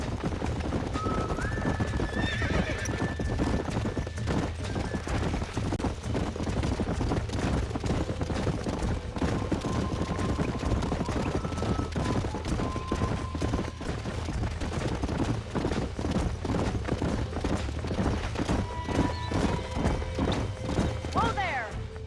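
Horses in the Western video game Red Dead Redemption: steady clip-clop of hooves with several whinnies and neighs over it, mixed with game ambience and occasional distant gunfire, continuous and moderately close.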